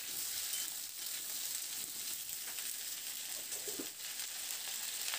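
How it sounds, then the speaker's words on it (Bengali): Potato pieces and drumsticks (sojne data) fry in a pan over medium-high heat, giving a steady, soft hiss of sizzling oil throughout with no talk. "এবার মিডিয়াম টু হাই ফ্লেমে আলু আর ডাঁটাটাকে মিনিট 4-5 সময় ধরে একটু খুব ভালো করে এটাকে একটু ভেজে"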